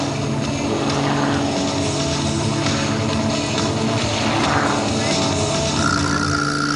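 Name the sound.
Goodyear Aviation Extra 330 aerobatic plane engine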